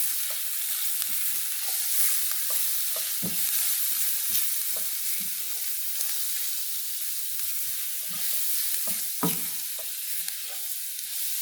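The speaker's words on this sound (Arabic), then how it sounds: "رح اقلب لحتى تبلش تتدبل معنا حبة البصل" Chopped onion with black pepper and cumin sizzles steadily in a frying pan while a spoon stirs through it, the scrapes and soft knocks of the spoon landing at uneven intervals over the constant hiss.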